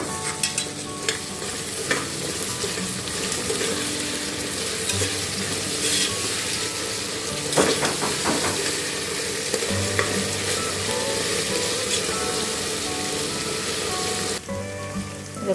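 Onions sautéing with ginger-garlic paste in a pan for a mushroom biryani, making a constant crackling sizzle with repeated spoon scrapes and stirring clatter. The sizzle runs steadily and fairly loud close up, with no talking.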